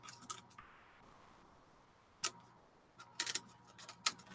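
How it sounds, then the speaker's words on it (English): Scissors snip loose threads off a craft piece in a few short, crisp clicks, quiet and close, spaced irregularly with near silence between. "I'm just going to take my scissors and give this a little haircut"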